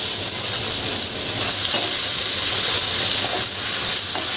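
Boiled red spinach lands in sizzling garlic oil and sets off a loud, close, continuous hiss of frying and steam that stays strong and even.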